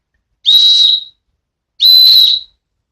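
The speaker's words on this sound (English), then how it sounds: "on the end, it has a rescue whistle" Two shrill blasts from a rescue whistle on the end of a ferro rod fire starter, each about half a second long, loud and close with a short pause between them.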